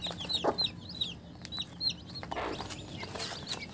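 A native country hen clucks softly beside her many newly hatched chicks, whose high, thin peeps repeat steadily throughout, with a few sharper clucks and rustles close by.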